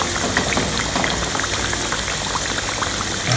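Green plantains cooking in a pot of hot oil, a dense, even bubbling sizzle that fills the whole moment at steady loudness without pause.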